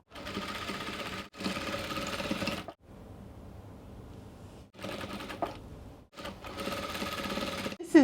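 A sewing machine stitches a double-folded hem on a dress in several loud, even runs of rapid needle chatter separated by brief pauses, close up and with no talking.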